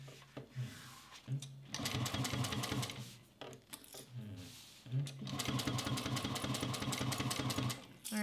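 A Juki 1541s sewing machine stitching through thick layers of vinyl, running in steady rapid bursts with brief stops between runs, loud and close.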